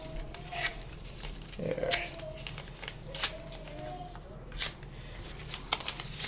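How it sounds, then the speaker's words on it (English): Paper or card pieces being torn up by hand, with several short ripping bursts spread through the stretch, fairly close, under a brief spoken word. "We're just tearing all these up."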